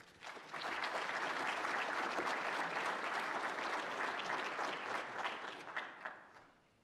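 An audience at an annual meeting applauds a speaker coming to the podium, with dense, steady clapping that swells quickly, holds for several seconds, then tapers off.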